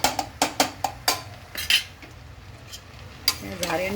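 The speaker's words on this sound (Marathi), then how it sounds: "या झाऱ्याने परत आपण खालीवर करून घेऊया भाजी सगळी." A slotted metal spoon scrapes and knocks in a pot of mixed vegetable curry sweetened with jaggery, a quick run of sharp clanks at first, then softer intermittent stirring and a few later clinks.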